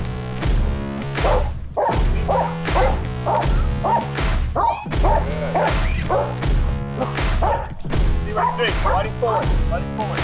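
Anti-poaching working dogs barking in loud, repeated bursts, several barks in quick rhythm close by, with someone speaking over them at points.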